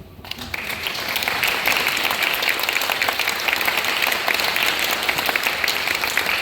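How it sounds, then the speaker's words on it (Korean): A crowd at a nunchaku association rank promotion test breaks into sustained applause, many hands clapping steadily and loudly for several seconds after a quiet start. "응원의 박수를 부탁드리겠습니다"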